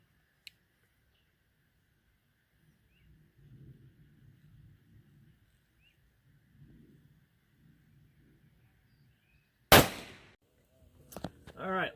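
A single sharp rifle shot cracks out loud and close at an outdoor range, followed by a smaller burst of impacts or echoes, with quiet low rumbling before it; the shot fires True Ballistics ammunition.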